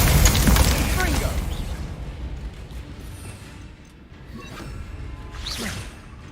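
A Confringo blasting spell goes off in Hogwarts Legacy, a loud booming burst with a whooshing tail at the start, followed by fainter crackling impacts and a later swish.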